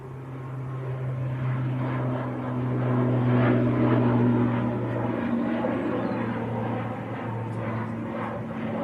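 A Loganair ATR 72 turboprop rolls for takeoff at Manchester Airport, its propeller drone a steady humming buzz that swells midway and then eases slightly, heard from a distance with no talking.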